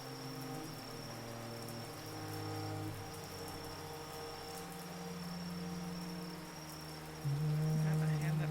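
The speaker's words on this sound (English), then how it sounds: "You hear the frogs there, the crickets" Frogs and crickets calling outdoors in the rain, a steady layered chorus of sustained tonal trills and chirps over soft rain patter, continuous and moderately distant, swelling slightly louder near the end.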